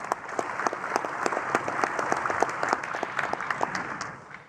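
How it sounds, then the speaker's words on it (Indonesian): Enthusiastic applause from the assembly at the 2019 Indonesian presidential inauguration, dense rhythmic clapping swelling and holding steady before tapering off, with no voices over it. "untuk sekali lagi memberikan tepuk tangan yang meriah"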